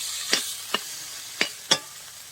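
Taro is stir-fried with spices in a pan, a continuous close sizzle broken by four distinct scraping stirs of the spoon against the pan.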